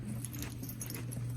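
A set of keys jangles briefly and close by, with a soft metallic rattle over a steady low hum near a fire alarm panel with a duct detector.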